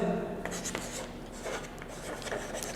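Pen writing on paper during an accountancy lesson on ledger posting, with steady scratchy strokes close by and short pauses between them.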